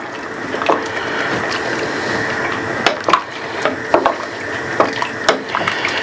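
Turkey noodle soup with mushrooms being stirred in a pot, a steady liquid swish with a few sharper scrapes and clinks of the spoon toward the end, close and moderately loud.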